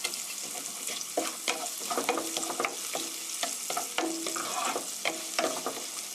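Onion and garlic fry in a pan with a steady close sizzle, broken by repeated clacks and scrapes of a spatula stirring the pan, with no talking.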